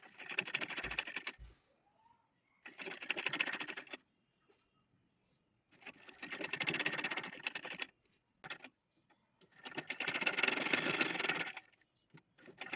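A sewing machine runs a pressing stitch on a cotton gauze baby frock in four separate bursts of fast rattling stitching, each a few seconds long, with quiet pauses between them.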